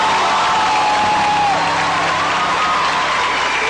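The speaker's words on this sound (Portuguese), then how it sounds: "Uma salva de palmas para Maria Santíssima," A crowd at a Catholic religious gathering gives sustained, dense applause, mixed with cheers and whoops, loud and steady throughout with no pause.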